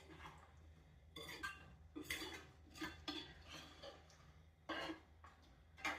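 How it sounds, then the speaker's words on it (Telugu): A spoon scrapes and clinks against a pan while chilli chicken is stirred after water is added, Andhra style, in a home kitchen; quiet, close, irregular metallic taps and scrapes with pauses. "సో ఇవి వేసుకొని మళ్ళీ ఒక్కసారి అయితే కలుపుకొని"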